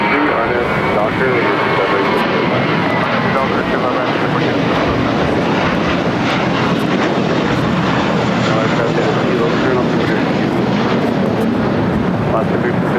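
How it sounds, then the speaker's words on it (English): A Korean Air Cargo plane arriving at LAX from Seoul roars continuously with broad engine noise, loud and steady, while radio chatter from air traffic control runs over it. "Korean Air Cargo 9207 coming in from Seoul"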